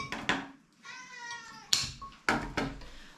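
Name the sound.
cat meowing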